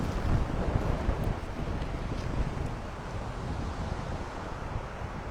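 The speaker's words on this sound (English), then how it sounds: "It's a bit too windy down here." Strong wind on Findhorn beach buffets the microphone in a continuous loud roaring rush, gusting slightly stronger at the start, with no voices.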